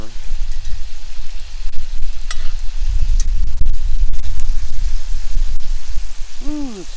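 Venison with garlic and butter frying in a pan over an open fire outdoors, a loud dense crackling sizzle running steadily throughout, with some handling knocks and a short spoken voice near the end.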